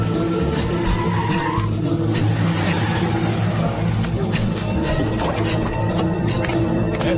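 A car brakes hard and skids to a stop in a dubbed action-film scene. A loud, continuous tire screech and road roar run through the whole stretch under a dense layer of background sound.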